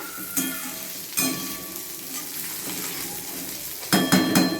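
Okra (bhindi) frying in a pan sizzles steadily while a spoon scrapes and stirs it in several distinct strokes, close and moderately loud, with no talking.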